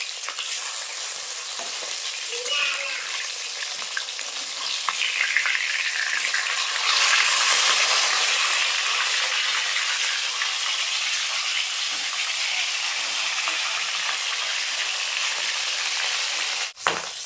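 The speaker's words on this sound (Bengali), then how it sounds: "মাছগুলো এক সাইড ভাজা হয়ে গেছে এখন উল্টে দেবো" Steady, dense sizzling of rupchanda (pomfret) fish frying in hot oil, loud and close, continuous with a slight swell midway and a brief clack at the end.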